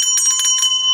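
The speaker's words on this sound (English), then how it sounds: "It's a bell." A bright metallic bell rings in several quick close strikes, its clear sustained tone hanging on after the strikes fade, with no voices.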